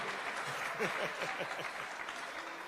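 An audience claps for two presenters at a citizens' debate, steady moderate applause sounding somewhat distant and soft, with a voice briefly audible over it.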